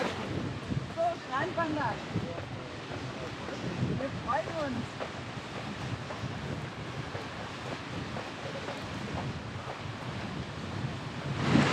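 Wind buffeting the microphone on a Baltic Sea beach with waves washing in the background, a continuous rough rumble with brief voices in the distance.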